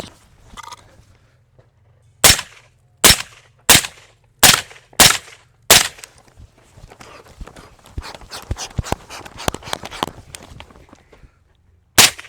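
A Sig Sauer 556 rifle fires six sharp, loud, evenly spaced shots, followed by a quick run of fainter clicks and rattles and one more crack at the end; a voice is faintly heard at the start.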